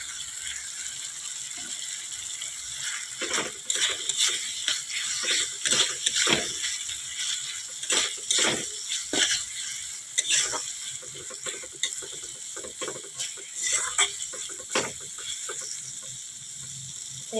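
Chana dal and grated coconut are sautéed in a pan for a vegetarian Bengali dish, with a steady bright sizzle and repeated rhythmic scraping strokes of a spatula stirring close by.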